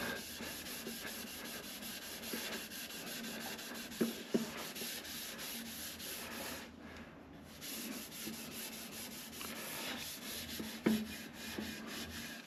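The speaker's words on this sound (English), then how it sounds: "the slight scrubbing action of the Scotch-Brite took that more stubborn stuff off really well." A Scotch-Brite pad scrubs metal parts from a planer under rebuild, giving a faint, steady rubbing hiss with a few soft knocks, and no talking.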